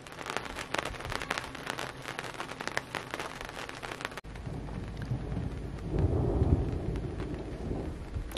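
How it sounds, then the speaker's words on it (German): Steady rain pattering nearby in Turkey, broken by a sharp crack and then a deep, rolling rumble of thunder that swells and fades. "Wir können es kaum glauben. Es regnet."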